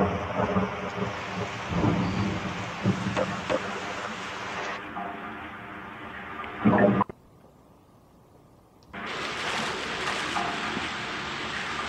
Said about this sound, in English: some freak lightning electrical disturbance hit us